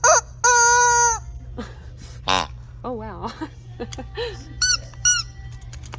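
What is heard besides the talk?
rubber chicken toy squeaking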